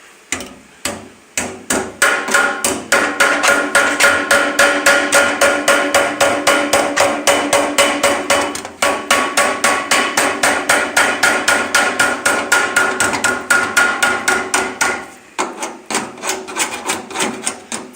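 A regular DeWalt hammer taps rapidly and steadily along the bent metal lip of an old stove, a close, loud run of sharp metallic strikes with a brief pause midway and a slower stretch near the end.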